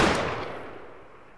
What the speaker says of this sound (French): sais pas si vous avez entendu le bruit après l'explosion